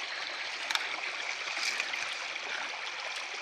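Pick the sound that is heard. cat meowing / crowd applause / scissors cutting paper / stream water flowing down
stream water flowing down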